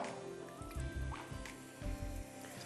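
Water is poured into a soup pot holding leftover African chicken peanut soup and swirled around, producing faint, soft sloshing and dripping sounds close by.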